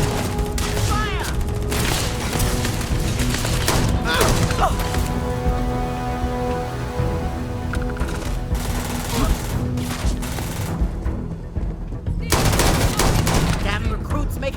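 Dense, loud Starfield gunfire on Xbox Series X: overlapping machine-gun bursts and single shots crackle almost without pause for the whole stretch, with only a brief thinning near the end.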